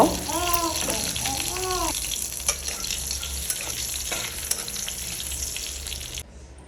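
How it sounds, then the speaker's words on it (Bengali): Bay leaf, cumin seeds, cardamom, cinnamon and cloves frying lightly in oil, a steady close sizzle with faint voices early on and scattered small pops. "তেজপাতা গোটা জিরে এলাচ আর দারচিনি নিয়েছি আর দুটো লবঙ্গ সেটাই আমি হালকা করে ভেজে নিব"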